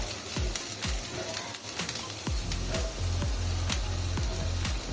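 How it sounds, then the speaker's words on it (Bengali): Capsicum, beans, carrot and cabbage fry in a pan of oil for momo filling, a soft continuous sizzle with repeated stirring scrapes that grow steadier and fuller partway through, and no talk. "এবার সবজিগুলো ভেজে নেব।"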